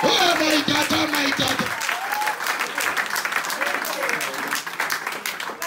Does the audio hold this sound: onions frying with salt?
no